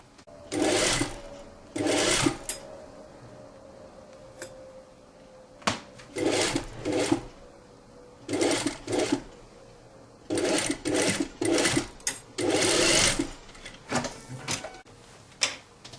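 A sewing machine stitches a belted shirt-tunic in repeated short bursts, running for a second or two, pausing, then starting again, close and clear with soft handling noises in the gaps.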